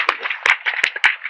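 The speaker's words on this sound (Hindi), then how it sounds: "एक बार जोरदार ताली सबके लिए।" A small audience at a devotional gathering claps in a brief, uneven burst of sharp hand claps, loose and irregular rather than a full roar.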